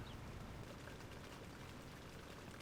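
Steady, dense rain pours down in a continuous hiss with a low rumble, filling the scene loudly and evenly without any voices.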